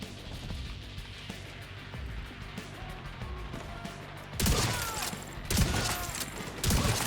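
Gunfire in The Division 2, a looter-shooter game: muffled background shots through the opening seconds, then louder bursts of rapid fire breaking in several times near the end.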